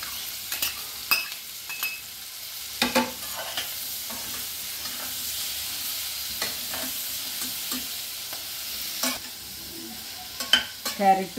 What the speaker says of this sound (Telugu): ఉల్లిపాయ వేపుకున్నాను.